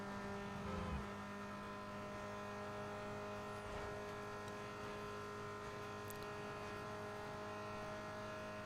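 A 1.6-litre turbo car engine in a racing video game, holding a steady, strained drone at high revs with faint tyre and road noise, continuous and even throughout with no talking.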